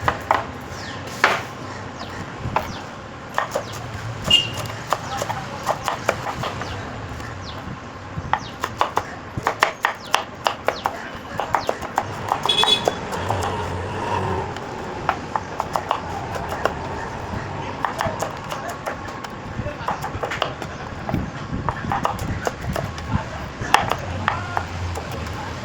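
Green chillies chopped with a knife for a large batch of poha, rapid irregular knife taps on a board, close and sharp, with occasional quiet talk.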